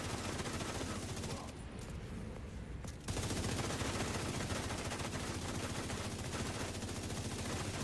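Rapid sustained automatic gunfire from a turret in The Division 2, a dense continuous rattle loud throughout, with a brief thinner stretch early on before the full barrage resumes.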